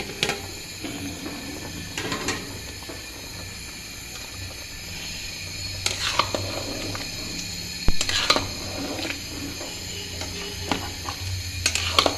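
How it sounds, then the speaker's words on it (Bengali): Sweet potato chicken curry stirred in a pot, sharp spoon ticks and scrapes against the metal at irregular intervals over a low bubbling background, close and moderately loud. "আমরা একটু নাড়াচাড়া করে দিব"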